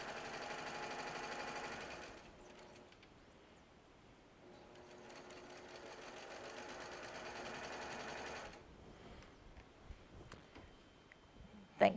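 A sewing machine stitches log cabin quilt block pieces together in a steady mechanical whir that runs for most of the stretch, then stops, leaving quiet handling noises and a sharp click at the end.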